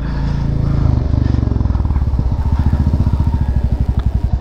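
A motorcycle engine runs loud and close during a ride, its exhaust thumping in a fast, even pulse that sharpens and grows more distinct as the revs settle.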